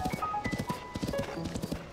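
A horse trots in Legend of Zelda: Tears of the Kingdom, its hooves clip-clopping in a quick, steady rhythm with bright game chimes over it; a faint voice is present.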